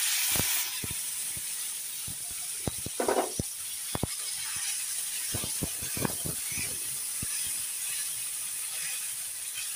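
Tomato paste hits hot oil over fried potatoes in a home kitchen pan, giving a steady broad sizzle and hiss with scattered sharp clicks and pops of utensils, fairly quiet and free of talk.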